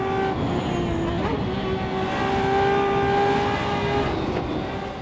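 A fast car on a public road in Northern Ireland accelerates hard, its engine a close, steady droning roar that rises slightly in pitch, with no one talking.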